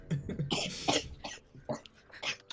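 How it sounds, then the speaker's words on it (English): Someone coughs repeatedly in short, raspy bursts with throat-clearing between them, close and fairly quiet, no speech. "I'm guessing he starts coughing at that."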